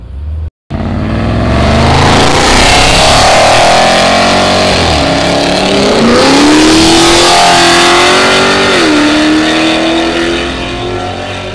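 A car engine roars loudly as it accelerates hard, pitch climbing through several gear shifts, sustained and close throughout.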